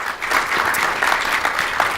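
An audience applauds during a Sunday Advent service gathering, welcoming a speaker to the stage: brief, continuous clapping from many hands, close and even.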